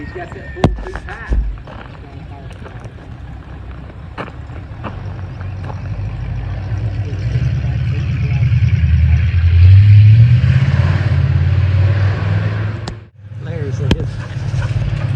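A 1968 Mustang engine running loud and close, its drone building steadily as it revs, then dipping sharply for a moment at a gear shift before resuming, with clanks early on and someone speaking briefly.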